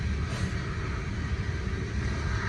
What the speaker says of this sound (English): so a CM3000, a GEVO locomotive basically